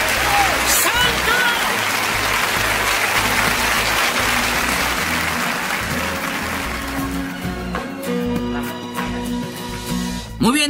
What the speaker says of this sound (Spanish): dé un aplauso al Señor de señores, pero grandioso. A ver ese aplauso que no decaiga.